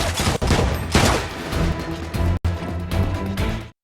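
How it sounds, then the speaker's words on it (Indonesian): Police gunfire in an action film chase, with dense bursts of loud, rapid shots rattling almost continuously and layered with a tense score before cutting off abruptly. "polisi mulai melesatkan tembakan pada Nick"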